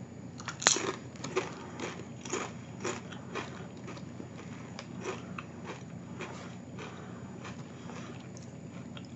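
Kettle-cooked Lay's Greektown Gyro potato chips crunched and chewed close up, a sharp bite followed by repeated crisp crackling chews, fairly quiet and alone without talk.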